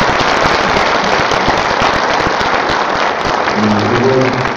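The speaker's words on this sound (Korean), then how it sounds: "큰 박수 부탁드립니다" Loud, dense applause fills a hall at the opening ceremony of an international academic conference, with steady crackling claps throughout and a brief voice near the end.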